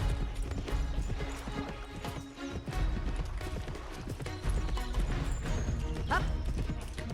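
Horse hooves galloping in the Petz Horse Club video game, a rapid steady clip-clop rhythm running continuously, loud and close, with a brief whinny near the end.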